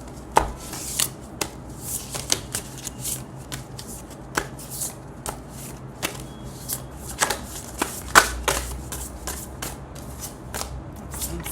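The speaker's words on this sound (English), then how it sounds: "those who like to see the shuffling can stay with me right here" Tarot cards being shuffled for a love reading: repeated crisp riffling and slapping bursts at an irregular rhythm, close and fairly loud, with no talking.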